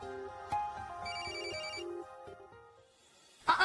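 A mobile phone ringtone plays a melodic electronic tune at moderate volume indoors, cutting off near the end before a sharper noise.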